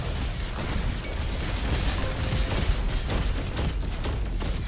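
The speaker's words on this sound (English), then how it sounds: "There's so many explosions going on." Dense, continuous barrage of blasts and bursts from the Engineer's Blaster weapon in the shooter game Roboquest, loud and overlapping with no pauses.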